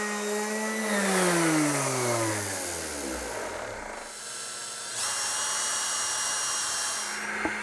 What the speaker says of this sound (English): That drill bit is blunt, completely and utterly blunt.